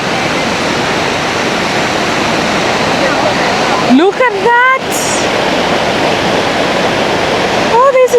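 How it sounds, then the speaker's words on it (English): The Gura River waterfall and rapids in Nyeri, Kenya give a loud, constant roaring rush of water from start to finish, while a person briefly exclaims over it. "The river is actually home to the impressive Gura Falls."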